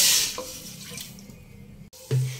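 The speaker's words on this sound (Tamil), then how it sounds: "ஒரு கடாயை அடுப்பில் வச்சு அதில் 1 கப் அளவில் தண்ணி சேர்த்துக்கோங்க" Water poured from a cup into a kadai on the stove, a short gushing splash at the start followed by quieter trickles and a brief final pour near the end, close and fairly loud.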